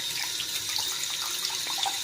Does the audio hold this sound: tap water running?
yes